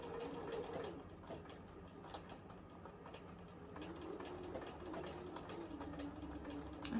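A home sewing machine runs steadily at a 2.5 stitch length while stitching fabric for a ruffle bodice, a continuous close mechanical whirr and rattle with slight speed changes and no talk.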